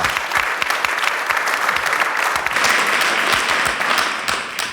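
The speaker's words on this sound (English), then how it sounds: "Let's hear it for the CEO of leafly.com, Yoko Miyashita." An audience at a keynote at the ICBC Berlin 2024 conference applauds steadily, dense clapping filling the room for several seconds before beginning to fade.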